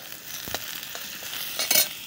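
Vegetables cooking in a pan over an outdoor clay stove in a courtyard: a continuous soft sizzle broken by several stirring scrapes, with one louder clatter near the end.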